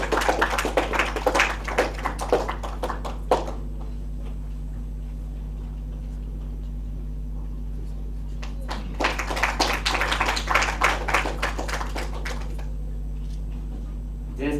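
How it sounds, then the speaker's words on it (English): Applause at a social impact event in Goa arrives in two separate bursts of scattered clapping, the first fading out, a quiet stretch with a steady low hum, then a second burst, all fairly thin and nearby. "A huge round of applause for Tanmay Faldesai."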